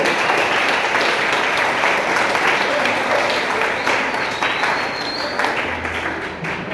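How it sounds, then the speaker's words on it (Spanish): Church congregation applauding during a Spanish-language sermon, a dense, steady wash of many hands clapping that holds for several seconds and tapers slightly at the end. "Hay un aplauso por Dios."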